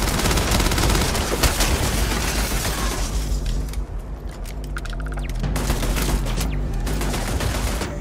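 A turret fires at the player in Starfield, a loud, rapid volley of shots with sharp cracks and shattering impacts that keeps on almost without pause, easing briefly midway before resuming.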